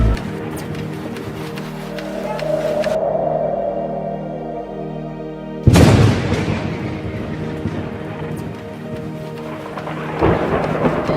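A thunderstorm with heavy rain batters a village hut, steady downpour broken by a sudden loud thunderclap that rumbles on, loud and close throughout.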